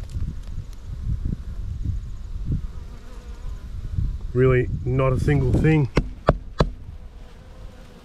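Honeybees buzz around an abandoned beehive, a low hum broken by sharp knocks and taps, while a person speaks briefly in the middle.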